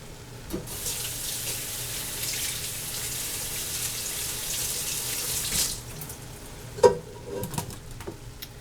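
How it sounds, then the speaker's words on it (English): Water runs steadily from a kitchen tap for about five seconds as hands are rinsed during chili making, a broad hiss that stops abruptly, followed by a few faint clinks and handling sounds. "Let me rinse my hands."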